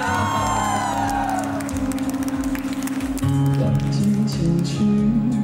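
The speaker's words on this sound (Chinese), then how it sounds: "掌声加尖叫声一下" At a concert during a tattoo convention, a crowd whoops and cheers loudly as music with sustained tones swells underneath, a dense roar lasting throughout.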